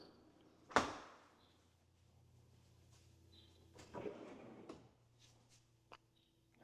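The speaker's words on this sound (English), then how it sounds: "Let's go ahead and open up some of these drawers for you." Kitchen drawers in a modern farmhouse are pulled open and pushed shut, a sharp close thump followed by softer sliding rumbles and light knocks, faint and nearby in a quiet room.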